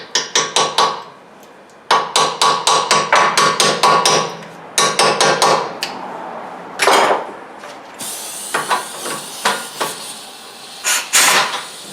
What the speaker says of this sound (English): This is actually pretty rusty, so we're gonna tap our socket on there a little bit.